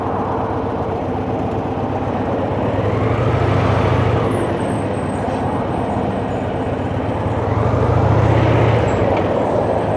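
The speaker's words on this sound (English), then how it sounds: "I hate this stop and go traffic." A car creeping through stop-and-go traffic, with a steady low engine and road rumble that swells twice as it moves off and then eases back, heard from inside the cabin with no talking.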